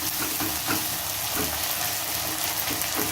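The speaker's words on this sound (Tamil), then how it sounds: "இப்போ பூண்டு வதங்கினதும் நம்ம தக்காளி ஆட் பண்ணிக்கலாம் நல்லா வதங்கட்டும்" Garlic and tomato sauté in oil in a pan, a dense, even sizzle with soft rhythmic stirring underneath, close and continuous without speech.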